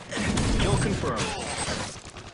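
Weapon magazine change in Modern Warfare 3 multiplayer, a brief close mechanical clatter and click of metal parts, with voices heard over it.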